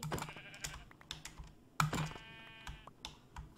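Sheep in the Minecraft video game let out a couple of bleats, one drawn-out and wavering, mixed with quick, sharp computer keyboard typing clicks that sound close and fairly quiet.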